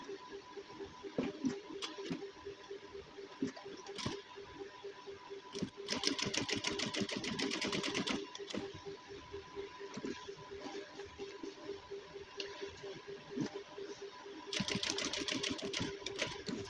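A sewing machine stitches the front placket of a gents suit in single-line stitching, running in steady rapid bursts with louder, busier stretches and brief pauses between runs, close and alone.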